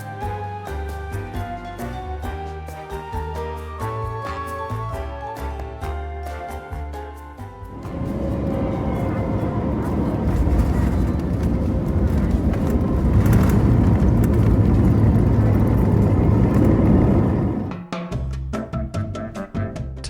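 China Southern airliner touching down at a major mainland Chinese hub airport, a loud broad engine and wheel roar swelling after a musical opening, holding steady for about ten seconds, then cutting off as music returns.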